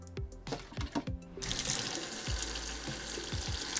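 Tap water runs steadily into a sink while makeup brushes are rinsed, a continuous splashing rush after a few short bursts of flow at the start.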